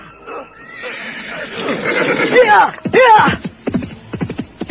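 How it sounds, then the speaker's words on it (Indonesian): A horse neighs loudly in an audio drama, a long whinny followed by snorts, set against a narrator's voice. "Kuda Parasuta bertekad sampai ke kaki Gunung Lejar, meski apapun yang terjadi"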